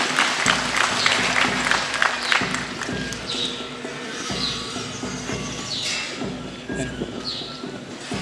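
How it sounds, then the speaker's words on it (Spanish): An outdoor crowd at a march in San Mateo del Mar, Oaxaca applauds for the second mayor, a rough, continuous clapping with crowd noise, shouts and whistles mixed in over the open-air bustle. "aplausos para el segundo alcalde"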